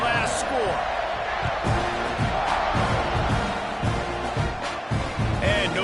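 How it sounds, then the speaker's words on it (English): A stadium crowd at a college football game buzzes steadily after a score, a dense, continuous roar of many voices that holds at a loud level throughout. "this crowd is buzzing after that last score."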